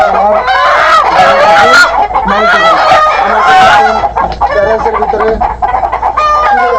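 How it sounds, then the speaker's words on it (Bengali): Tiger chickens cluck and squawk loudly and continuously on a poultry farm in Magura as one is caught, with a brief word spoken over the flock's agitated calls. "এই দেখেন আমি আপনাদেরকে একটা মুরগি ধরে দেখাচ্ছি।"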